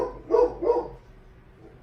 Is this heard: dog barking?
yes